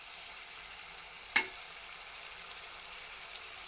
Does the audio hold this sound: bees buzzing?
no